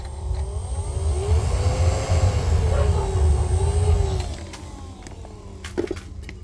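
Electric fan blowing air into a lit wood-burning stove in a farm hut. A steady low roar and whir runs for about four seconds, then drops to a quieter hum with a few faint clicks.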